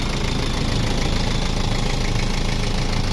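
A Nissan Frontier D22 engine, repaired after connecting rod knocking, idles up close with a loud, even, rapid mechanical patter and no voices over it.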